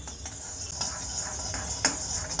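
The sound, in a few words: dry roasting coriander seeds in a pan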